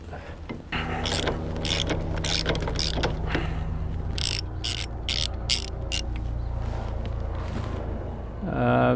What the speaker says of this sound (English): a 30mm socket to take that off, and you will need quite a large bar